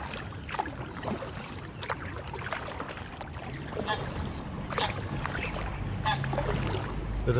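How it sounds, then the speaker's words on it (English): Geese honking beside the River Ouse in York city centre, several loud calls scattered across the stretch over lapping water from a kayak, with a low rumble building toward the end. "Bit of noisy goose action,"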